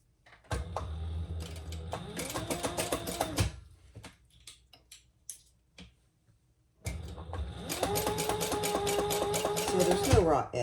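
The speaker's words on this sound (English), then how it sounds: "So I'm just going to top stitch that" A sewing machine top stitches a fabric clutch in two loud, rapid mechanical bursts, separated by a quieter pause with small handling clicks and faint talk.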